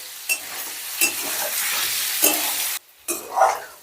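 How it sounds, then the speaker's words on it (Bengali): Paneer cubes frying in a pan over medium gas heat, a steady close sizzle broken by brief stirring scrapes and one short pause before the frying noise resumes. "এবার গ্যাসের রাস্তা মিডিয়ামে রেখে পনিরগুলো আমি হালকা লাল করে ভেজে নেব"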